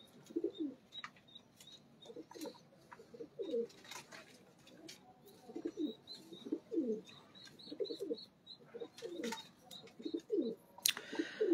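Pigeons of the Teddy breed coo repeatedly at close range in a breeder's loft, their low throaty calls rising and falling in overlapping bursts, with faint chirps and occasional wing rustles in the background.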